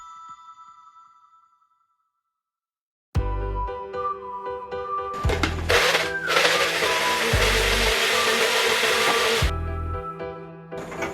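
Blender pureeing mango for a tart filling, starting abruptly after a quiet pause, then whirring loudly in several bursts of pulsing and continuous blending before stopping, with light background music at the start.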